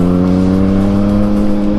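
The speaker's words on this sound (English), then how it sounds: "when I'm just rolling along in second gear here, this bike is screaming" A Yamaha MT-09 (FZ-09) motorcycle with a loud exhaust revs loudly and steadily in second gear, a throaty, sustained roar close by with no pauses.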